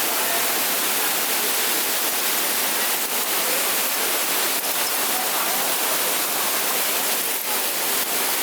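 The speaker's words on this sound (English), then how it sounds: "Gorgeous rains." Heavy monsoon rain pours onto a balcony garden in Mumbai without wind, a dense, loud, unbroken hiss from start to finish.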